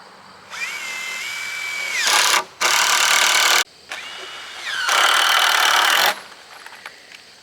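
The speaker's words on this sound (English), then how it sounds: "Putting in a few more screws just to anchor it in" A power drill drives screws into wood while a beginner barn is being built, with several close, loud bursts: a rising motor whine that bogs down as each screw seats, separated by brief pauses.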